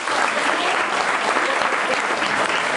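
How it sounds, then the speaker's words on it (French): Dense, steady applause from a stage-show audience at a hypnotist's performance in Madrid, loud and close, filling the whole moment without a break and with no voices over it. "On applaudit, s'il vous plaît"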